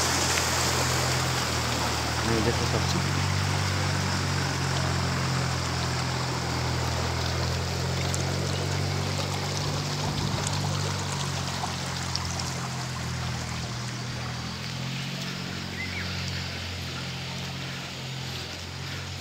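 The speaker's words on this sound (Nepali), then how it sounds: "ठुलो खेतीको लागि यो चाहिने पानी व्यवस्थित कुलो" Water rushes steadily through an irrigation canal that feeds large farm fields near Dharan, Nepal, a constant broadband flow that fills the whole stretch, with a brief faint voice speaking over it.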